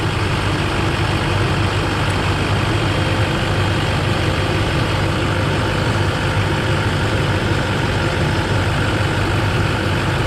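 A 2005 GMC Sierra 2500HD pickup idles with its power steering pump turning, a loud, steady low diesel-like drone with constant mechanical whir and no squeal, close up and uninterrupted.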